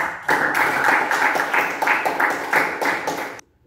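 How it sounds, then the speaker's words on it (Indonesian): A classroom of students clapping for a student group returning to their seats during a teaching session, a rhythmic, fairly close round of applause with a pulsing beat that stops abruptly. "Sekali lagi berikan tepuk tangan kepada."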